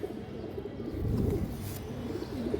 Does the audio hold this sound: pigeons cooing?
yes